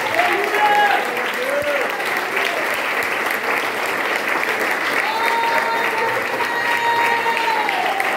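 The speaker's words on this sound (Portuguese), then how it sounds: "dá a melhor salva de palmas a Ele" Church congregation giving loud, sustained applause during a worship service, dense clapping across the full stretch with faint voices and tonal sounds rising beneath it.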